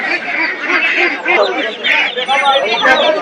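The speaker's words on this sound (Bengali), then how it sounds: "এই দেখেন প্রচুর হাঁস কিন্তু চতুর্দিকেই নিয়ে আসছে দেখেন" Many ducks at a village poultry market quack and honk loudly in a dense, overlapping chorus close by, with people talking in the background.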